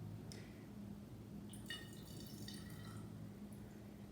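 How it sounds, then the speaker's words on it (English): Vinegar poured through a funnel or pipette into a bottle: faint, sparse drips and a light trickle sit over a low, steady background hum, with no talking. "you're going to put that vinegar into the bottle"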